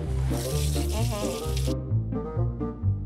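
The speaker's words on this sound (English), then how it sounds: "we gotta wash our hands first" Tap water runs steadily into a kitchen sink for hand washing before muffin baking, a bright rushing stream for the first couple of seconds that then cuts off, with voices throughout.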